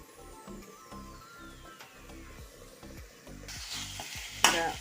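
Squid and onions stir-fry together in a pan, giving a repeated rhythmic scraping and stirring pattern over a low sizzle, with a sharp clatter near the end.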